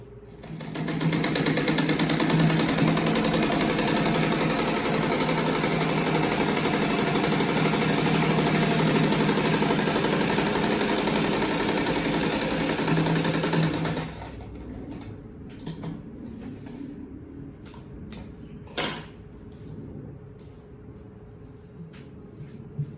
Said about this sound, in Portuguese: Agora vou passar a costura aqui e aqui.